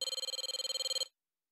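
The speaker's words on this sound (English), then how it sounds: "My phone starts buzzing." A phone rings in the Siren's Call video game: a bright, steady electronic trill pulsing rapidly for about a second, then cutting off into silence.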